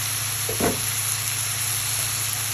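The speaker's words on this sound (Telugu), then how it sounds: "కట్ చేసి పెట్టుకున్న టమాటా ముక్కలు వేసేసుకోవాలి" Chopped tomato pieces drop into a hot pan for a bottle gourd garlic curry, giving a brief burst of sizzling and a stir near the start before settling into a steady, fairly quiet frying hiss with a low hum beneath.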